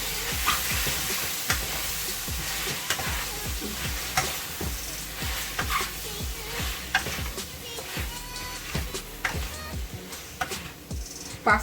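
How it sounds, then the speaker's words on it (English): A spoon scrapes and stirs through thick Haitian-style spaghetti sauce in a pan, with a steady rhythm of soft knocks and a faint sizzle underneath. "I'm gonna mix it all together"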